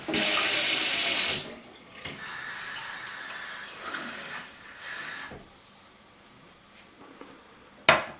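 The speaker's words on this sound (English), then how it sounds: "Then the other cup we're going to have full of cold water." A kitchen cold tap runs water into a cup, loud and steady for the first second and a half, then softer trickling and splashing, ending with a brief sharp gush.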